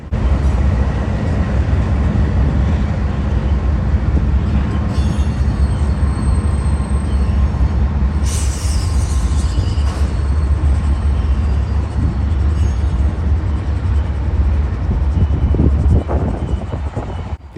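Norfolk Southern freight locomotives and cars roll past at close range, a continuous heavy rumble with rail noise and a brief high wheel squeal partway through, loud and unbroken, with no talking.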